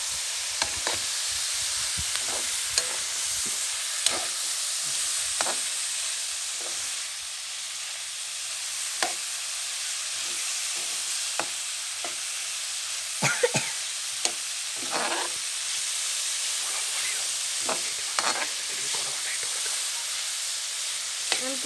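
Meat frying with meat masala and chilli powder in a pan gives a constant hiss, broken by frequent scraping taps as it is stirred throughout.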